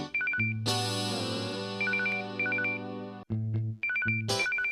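A telephone rings with an electronic ringtone in a TV drama scene, repeated bursts of high beeping tones over a sustained musical background.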